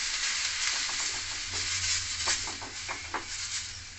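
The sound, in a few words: water sprinkled on a hot tawa, sizzling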